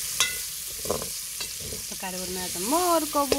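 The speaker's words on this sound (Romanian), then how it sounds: "Am pus și ceapa la prăjit" Onion sizzling and frying in a pan on a home stove, a steady crackling hiss throughout while a person talks over it.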